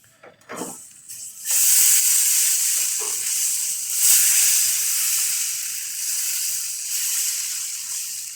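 Rava dosa batter poured onto a hot pan sets off a loud, steady sizzle that swells and holds after a few brief clatters at the start, with no speech.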